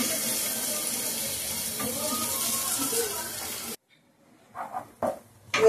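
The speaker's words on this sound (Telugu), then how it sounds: "ఆయిల్ అయితే కాగిందండి, ఉల్లిపాయలు అయితే వేస్తున్నాను" Onions frying in hot oil for a beef liver fry: a loud, steady, dense sizzle lasting nearly four seconds, then cutting off abruptly, followed by a few faint clatters.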